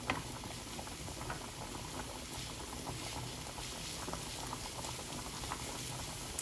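Hot oil bubbling and crackling as spring onion fries in a pan, a continuous soft, even sizzle without voices.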